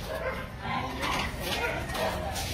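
Rescued abandoned pitbull whimpering and yipping in short, thin bursts, with people talking over and around it.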